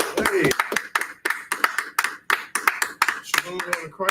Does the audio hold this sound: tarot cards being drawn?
no